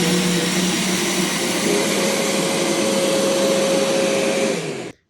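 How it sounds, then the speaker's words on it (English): The 70mm electric ducted fan of a Freewing F-22 model jet, running in reverse thrust, gives a loud, steady whirring roar with a constant whine that holds for about five seconds before cutting off abruptly. "when I flick this switch, the ESC reverses and it pushes air towards us rather than away from us"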